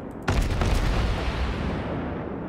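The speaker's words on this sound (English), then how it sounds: "Ooh, that looked like a pretty good salvo." Naval gun salvo from a Russian Svietlana cruiser in World of Warships, a sudden heavy boom followed by a long rumbling roll that fades slowly, loud and close.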